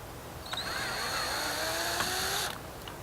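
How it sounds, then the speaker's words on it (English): A power screwdriver backs a screw out of the lower bolt sleeve on a cut-down FL astragal, one steady close whir lasting about two seconds, alone with no talk. "we'll first need to remove this screw from the lower bolt sleeve"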